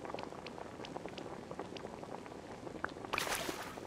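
A cooking pot bubbles in the video game Disney Dreamlight Valley while pickled herring is made, a steady fizzing, boiling texture with small pops throughout, brightening into a louder sparkling chime near the end.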